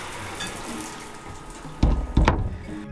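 Hot water runs from a tap aboard a sailboat, a soft hiss of flow that swells into two louder gushing bursts near the end.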